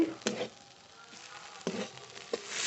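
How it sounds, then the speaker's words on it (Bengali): Mustard greens frying dry in a pan, with a soft steady sizzle and a few scraping stirs of a spatula against the pan, close and fairly quiet. "সর্ষের শাক খুব ঝরঝরে করে ভেজে নিয়েছি"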